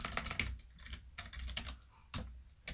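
Keys clatter on a computer keyboard in a short burst of uneven typing, close and fairly quiet, with no one speaking.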